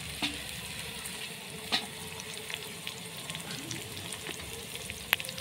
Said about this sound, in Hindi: तो गाइस फाइनली हमारा तेल गर्म हो चुका है, डाल देते हैं प्याज।